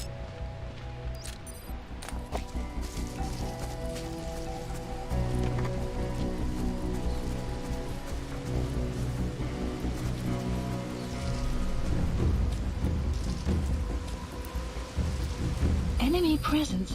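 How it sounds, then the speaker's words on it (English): Rain and rolling thunder in the video game Metal Gear Solid V: The Phantom Pain, a steady broadband downpour under game music, with a louder rumble swelling near the end. "Caution, rain approaching."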